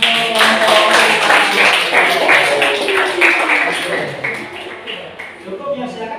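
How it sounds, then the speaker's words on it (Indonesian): Classroom students clap for a presenting group, a busy patter of hands that is mixed with talking voices and fades toward the end. "Oke, bagus sekali tepuk tangan untuk kelompok."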